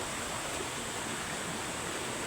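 Continuous rushing water of a forest stream, a dense, even broadband roar with no talk.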